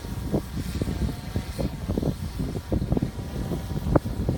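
Wind gusting around a SwellPro SplashDrone 3 hovering outdoors, a steady blustery rush with irregular low thumps and buffeting, close to the microphone and continuous throughout.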